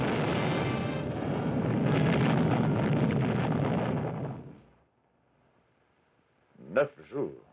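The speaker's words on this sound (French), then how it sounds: "Ensuite, une explosion formidable." A huge explosion sound effect from the 1956 flying-saucer attack film roars loudly for over four seconds, then cuts to near silence before a voice briefly speaks.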